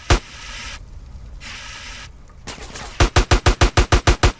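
Gunfire in Grand Theft Auto: San Andreas: a single loud shot and scattered noise, then a fast, evenly spaced burst of about nine sharp, close shots.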